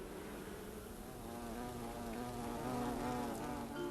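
Honeybees buzz in a soft, continuous drone that wavers in pitch as they fly close by, fairly faint and with no talking.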